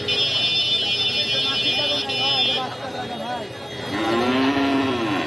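Cows at a busy Naogaon cattle market in Sirajganj moo loudly, with a long low call near the end, over a din of crowd chatter and a steady high buzzing tone.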